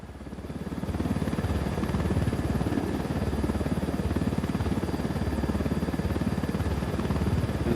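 Helicopter in the video game Ghost Recon Wildlands, a loud steady rotor thump and engine drone that swells in over the first second and then holds close and constant.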